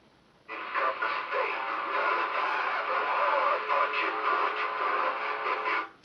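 CB radio skip on the CB band: a broad, steady wash of hiss and warbling distorted voices that starts abruptly, runs at even loudness for several seconds, then cuts off.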